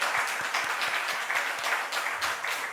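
A church congregation at a Sunday worship service applauds to bless its youth group, a dense, steady roar of many hands clapping that fills the room continuously.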